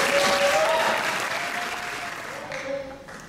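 Audience applauding bodybuilding contestants at the NABBA Universe 2022 competition, a loud, sustained burst of clapping from a large crowd that gradually thins out, with a presenter's voice faintly underneath.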